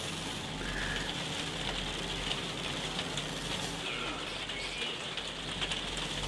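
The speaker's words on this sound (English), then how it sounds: "It's raining in good old England." Steady rain falling in the video game No Man's Sky during a storm, a constant broadband hiss of drops hitting surfaces that stays even and moderately quiet throughout, with no voices.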